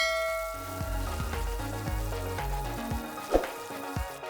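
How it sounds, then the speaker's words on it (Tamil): Chopped large onions sautéing in a pan for bitter gourd thokku, a steady sizzle with stirring scrapes and a sharp metallic clink near the end, close and alone. "இப்போ இந்த வெங்காயத்தை நல்லா வதக்கிக்கலாம்."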